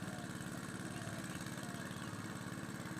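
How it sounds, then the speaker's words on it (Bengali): A village water pump machine's engine runs after starting up, a steady low chugging putter with fast regular pulses, fairly faint and close, with no voices over it. "এপাশে দেখো মেশিন স্টার্ট হয়ে গেছে"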